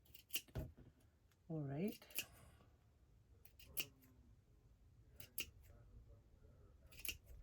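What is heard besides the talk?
scissors cutting felt for flower centre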